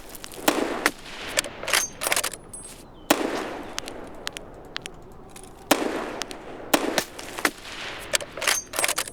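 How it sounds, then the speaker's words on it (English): Bursts of rapid automatic gunfire in the video game Escape from Tarkov crackle in several separate volleys, loud and sharp, with short pauses between them. "I thought I heard some automatic gunfire from over this direction."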